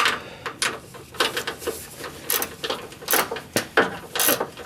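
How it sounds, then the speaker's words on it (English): A ratchet loosens small body bolts on a Jeep Wrangler Unlimited, giving irregular bursts of clicking and rattling metal mixed with handling clatter, close and fairly loud with no talking. "So now we're removing the little bolts."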